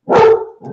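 A pet dog at home gives one loud, close bark, short and sharp, followed by a brief low grunt.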